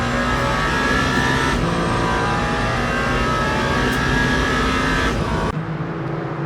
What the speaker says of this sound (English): it is going to be full throttle until we get to the Porsche S's